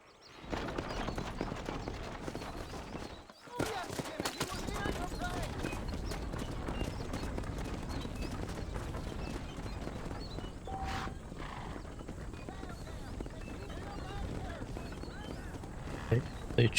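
Horse hooves clip-clop steadily in Red Dead Redemption on PS4, with occasional whinnies and outdoor ambience under continuous background game sound, running nearly unbroken after a short dip.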